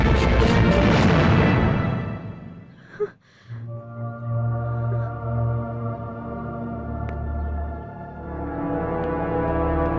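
A loud, long horn blares at the start, falls silent after a brief thump, then sounds again as a sustained, steady tone fading in and out.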